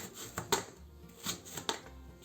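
Watermelon rind is sliced for pickling with a small cutting tool, giving several quiet, crisp cutting strokes in an irregular rhythm, close by and without talk.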